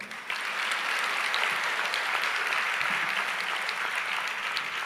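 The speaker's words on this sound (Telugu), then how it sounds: "ఇప్పుడు కొట్టరు చప్పట్లో" Steady applause from a church congregation during a Telugu Christian sermon, a dense, even clapping that holds at full strength through the whole stretch with no talk over it.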